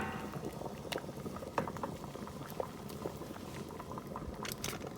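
Glass jars of prickly pear jelly sit in a hot water bath at a rolling boil, giving a steady, dense bubbling with scattered sharper pops, moderately close and heard alone.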